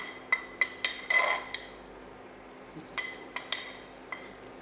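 Lemon zest frying in a pan, heard as a faint low sizzle broken by several sharp clinks and scrapes of a utensil against the pan, quiet and close.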